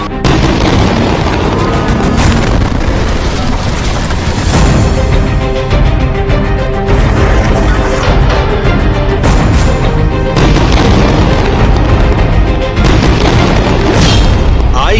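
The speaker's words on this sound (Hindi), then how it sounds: "हमास के अड्डों पर बमों की बारिश की जा रही है" Bombs bursting on Hamas bases in Gaza during an Israeli military strike, a dense, loud, continuous roar of booming blasts with no pause across the whole stretch.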